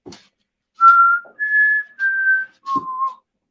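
Someone whistles a short melody of four clear, sustained notes, each held briefly with small pauses between, close and alone.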